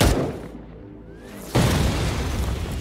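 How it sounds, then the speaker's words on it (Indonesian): A loud explosion from an action film bursts out about halfway through and fades into a sustained, roaring rumble of debris and fire, with quieter tense background sound before it. "tiba-tiba terjadi ledakan"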